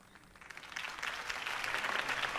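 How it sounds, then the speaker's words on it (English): A crowd applauds at the close of a campaign speech, clapping swelling from soft to full over a couple of seconds. "could have heard that applause"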